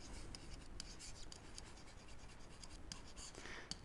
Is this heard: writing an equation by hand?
yes